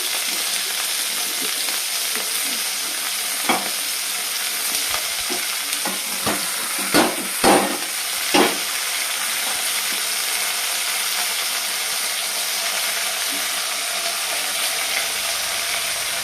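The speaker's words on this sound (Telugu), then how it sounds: "టమాటా అన్నీ వేసి ఆరెంజ్ కలర్ బ్రౌన్ కలర్లోకి వచ్చే వరకు మగ్గ పెట్టాలి" Tomatoes and green chillies sizzle steadily in a pan for chicken curry, a constant loud frying hiss with a few sharp scraping stirs in the middle, no voices.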